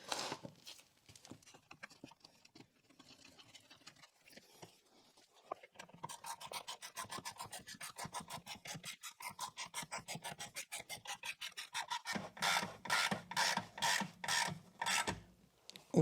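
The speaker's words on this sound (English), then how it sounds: "And just snug that up with a 3/8." A 3/8-inch ratchet snugs a 10mm bolt on a Renault Scenic 3 rear suspension, first as scattered faint scraping and then as a long, steady run of quick close clicks that grows louder near the end, with no voices.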